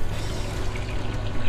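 Water pours steadily out of a turtle tank in a continuous, close, broadband gush with no pauses and no voices.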